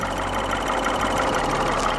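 A Peugeot 208 three-cylinder engine idles with a steady, coarse rattle, close and continuous throughout.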